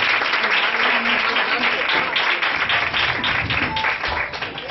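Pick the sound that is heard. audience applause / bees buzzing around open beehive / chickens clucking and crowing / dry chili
audience applause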